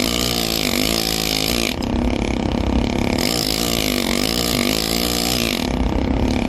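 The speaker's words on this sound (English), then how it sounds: "Now we're going to put the angulette back in the handpiece. And we're going to use it to get in the little corners." Engraving handpiece driving an angulette graver to sculpt a coin, a loud, continuous buzzing whine with rhythmic pulsing and shifting pitch, briefly easing off twice before resuming, no talking.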